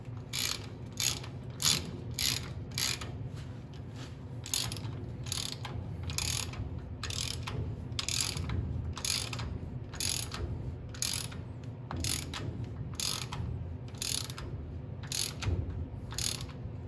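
Lug bolts on a Ford F100 wheel tightened in a crisscross pattern with a ratchet, giving steady bursts of close, rapid clicking that stop and restart as the tool moves from bolt to bolt, with no talking.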